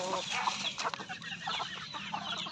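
Pet chickens and a rooster cluck busily in a coop, close and continuous, with overlapping squawks and murmurs.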